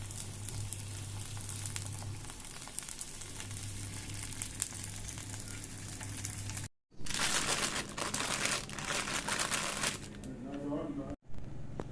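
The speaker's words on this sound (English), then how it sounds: "Now we'll remove these and on slow heat we'll just make them a little brown." Chicken kabab cutlets frying on slow heat, giving a steady, close sizzle and crackle throughout, with two brief cut-outs and a voice talking over it.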